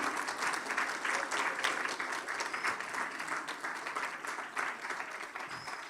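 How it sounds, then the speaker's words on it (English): Students at an occupational therapy pinning ceremony applaud their family, friends and children, a sustained crowd clapping with slight swells, moderately distant and steady throughout. "thank and applaud all your family and your friends and the little kids for all the support today"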